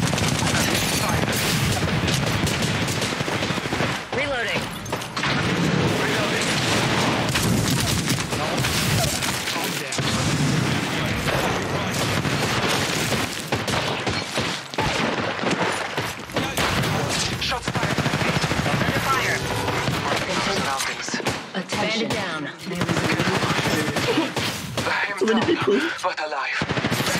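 Continuous video game firefight with rapid automatic gunfire and bursts of shots, dense and loud throughout, mixed with player voices talking over the action.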